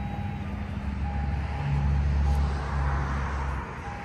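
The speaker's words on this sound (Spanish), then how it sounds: "Van a disculpar un poco el ruido que se escucha de los carros." Passing cars heard from indoors during holiday decorating, a steady low rumble of traffic swelling in the middle as a vehicle goes by, with a faint constant tone underneath.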